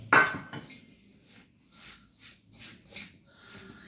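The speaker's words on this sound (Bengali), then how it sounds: "বাটা মশলা পুরো আমি এর মধ্যে দিয়ে দেবো, মানে যেটা আমি শিলনোড়ায় বেটে নিয়ে এসেছিলাম, নিয়ে ভালো করে মিশিয়ে দেবো" Ground spice paste, stone-ground on a grinding slab, being mixed by hand into a bowl of sattu fish bait for catla: soft squelchy mixing strokes in a steady rhythm after an initial clatter, close and fairly quiet.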